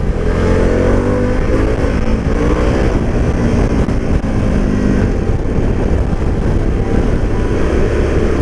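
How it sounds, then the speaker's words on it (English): A Harley-Davidson Pan America adventure bike with an aftermarket exhaust downshifts at about 40 mph. It gives a loud, close engine drone with falling rev sweeps as gears change, under steady wind and road rumble, with no talking. "this is the aftermarket pipe, but it doesn't seem to be too obnoxious. Let's downshift in a second at 40."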